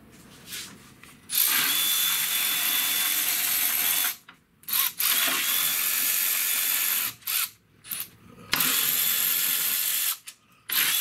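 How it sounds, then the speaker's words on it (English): A power tool whirs in repeated bursts while backing out screws during radiator replacement on a 2009 Mazda CX9, with short pauses between each run. "I'm going to go ahead and switch to the power tools."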